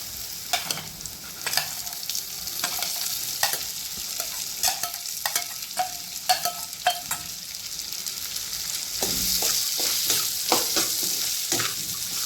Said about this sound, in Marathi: आता हे जे मोड आलेले कडवे आहेत ते आपण या फोडणीवर घालणार आहोत